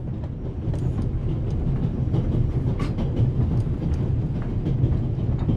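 A train rolling along rails in The Raven Remastered video game, a continuous low heavy rumble with faint rhythmic clicks from the track, steady and close, with no voices.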